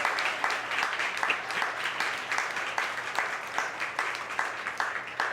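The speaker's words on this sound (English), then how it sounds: "let's give our panelists a huge round of applause, please" Audience applause for a panel of speakers at a Latino cultural event, steady dense clapping from a crowd lasting throughout at moderate loudness, with a faint low hum underneath.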